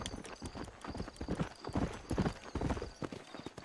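Horse hooves clip-clop at a steady trotting rhythm in the Western video game Red Dead Redemption, close and fairly quiet, with a brief whinny-like tone and no talk.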